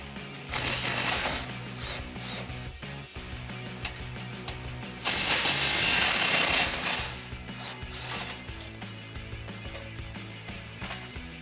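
Ratchet clicking away at skid plate bolts underneath a Jeep Gladiator JT, in bursts of fast metallic ratcheting that swell louder around the middle, close up and with no talking.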